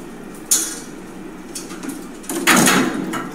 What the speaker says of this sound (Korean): 엘리베이터 안에 문을 먼저 닫고